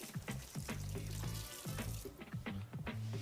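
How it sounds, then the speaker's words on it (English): Hands are rinsed under a running kitchen tap, a steady close splash of water broken by rubbing and shifting hands, with low clattering in the background and no voices. "I'm just gonna wash my hands a little."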